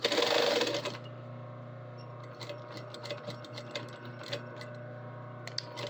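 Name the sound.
sewing machine stitching a seam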